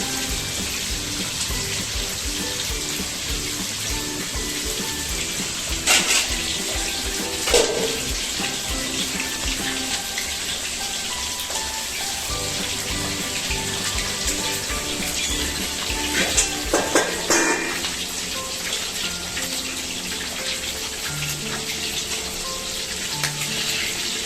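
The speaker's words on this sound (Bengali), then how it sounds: "মাছগুলো গরম তেলে দিয়ে দিচ্ছে" Salted, turmeric-coated fish frying in hot oil: a loud, continuous sizzle close to the pan, broken by occasional sharper spatters and crackles throughout.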